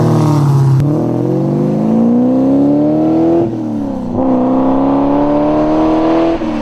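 The 426 Hemi V8 of a 1970 Plymouth Hemi Road Runner revs loudly up close, its engine note climbing, dropping and rising again in sustained pulls with no talking over it.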